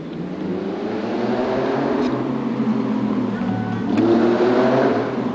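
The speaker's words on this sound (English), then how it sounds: "Ooh, that's a car." A car engine hums nearby and swells as it passes and revs, a steady mid-low drone rising in the final seconds, with no talk over it.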